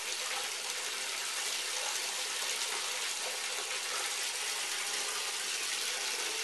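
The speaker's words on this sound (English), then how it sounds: "I'm going to just bring the water level up" Cold water gushes steadily into a tub where a CRT picture tube is soaking, a loud, continuous rushing flow from a tap that lasts throughout with no pauses.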